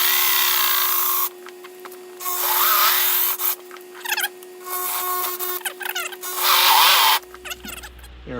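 Hole saw cutting through the arm rest of a 1989 Jeep XJ in bursts of whirring drill noise separated by short pauses, close and fairly loud.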